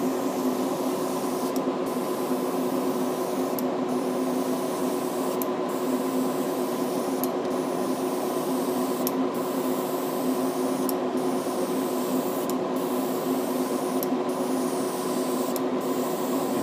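A spray gun laying mist coats of body paint on a Shelby Mustang, a steady hiss with a constant tonal hum, broken by regular short pulses about every two seconds, with no talk.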